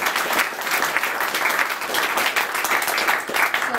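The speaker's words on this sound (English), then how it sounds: "Yes, clap for that." A gathering of local Democrats applauds, a moderately loud, continuous patter of clapping from a modest crowd, with no speech over it.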